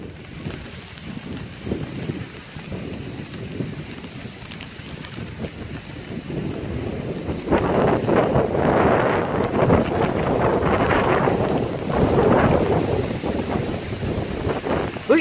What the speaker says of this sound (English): Heavy rain, no hail so far.